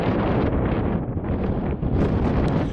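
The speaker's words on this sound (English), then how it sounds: "It's still a bit windy." Heavy wind buffeting the microphone on a winter walk at Dow Crag and Coniston Old Man, a loud continuous roar with gusty swells and no voices.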